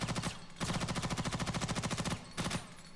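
Video game gunfire at a shooting range in Ghost in the Shell: Stand Alone Complex First Assault, heard as loud, rapid automatic bursts with a steady rattling rhythm, broken by short pauses between strings of shots.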